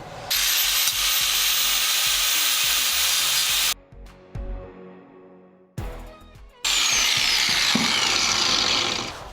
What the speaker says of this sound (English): I can go ahead and take my grinder, cut through, and not hit this.